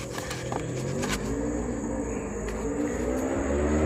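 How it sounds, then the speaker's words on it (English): A steady engine rumble drones throughout, swelling slightly louder toward the end as a motorcycle passes nearby. "Sorry for the motorcycle noise."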